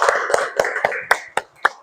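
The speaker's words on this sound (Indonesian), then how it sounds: "Tepuk tangan untuk semuanya." A small class claps in a classroom, a short run of about seven distinct, fairly close hand claps in an uneven rhythm over a hum of background voices, thinning out toward the end.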